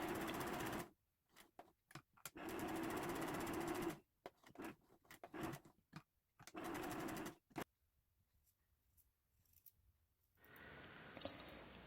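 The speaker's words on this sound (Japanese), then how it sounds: "モチーフが潰れないように確認しながらステッチをかけていきます。" A sewing machine stitches around a flower appliqué motif on a quilt top in loud bursts of rapid stitching separated by pauses, ending with quieter faint noise.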